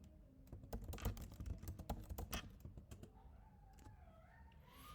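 Quick, quiet typing on a computer keyboard, a dense run of clicking keystrokes for about three seconds that thins out into a few scattered taps, with no voice.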